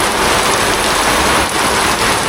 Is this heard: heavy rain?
yes